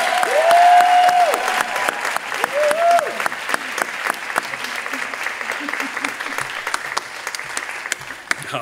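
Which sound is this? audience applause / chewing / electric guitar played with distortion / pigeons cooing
audience applause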